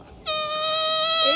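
A car horn gives one sustained, bright, buzzy honk that starts abruptly and holds steady for over a second, loud and close against a quiet outdoor background.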